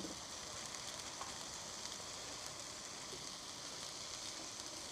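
An egg sizzles steadily in a hot pan for egg fried rice, a faint, continuous crackling hiss with no voices.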